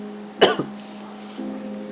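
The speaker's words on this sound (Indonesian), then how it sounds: "Mohon maaf kalau gue batuk-batuk guys ya, jadi yang terganggu ya" A single sharp cough rings out with a quick follow-up, over a low steady hum in the background.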